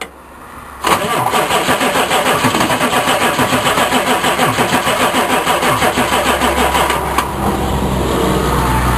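A diesel dually truck engine cranks over repeatedly on the starter, with a loud, steady rhythmic churning that begins about a second in and runs several seconds before stopping.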